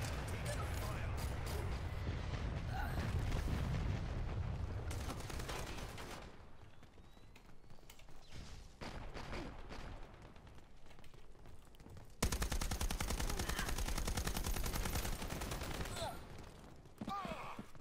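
Gunfire in the shooter Dirty Bomb, bursts of automatic weapons and mechanical clatter running through most of the stretch, loud at times and fading in others, with someone talking over it.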